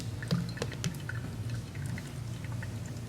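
Hot water poured over a pour-over coffee brew bed, a soft continuous liquid stream with light drips and splashes, close and fairly quiet throughout.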